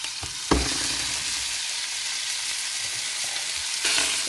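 Two steaks fry in melted butter with a constant bright sizzle close by, punctuated by a couple of brief clanks or thumps, with no talking.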